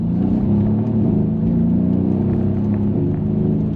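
A Mercedes-Benz C63s engine pulls hard under acceleration with the paddle-shift gearbox, a loud, deep, steady rumble and growl heard from inside the car, with no talk over it.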